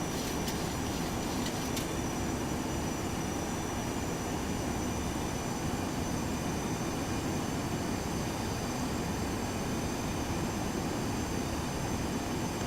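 Boeing 737-200 engines in a flight simulator game give a steady, broadband jet roar that holds at an even level throughout, with no voices over it.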